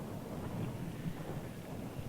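Distant thunder from a storm brewing in the clouds over the mountains rolls low and faint, a soft continuous rumble with wind and rain noise and no sharp cracks.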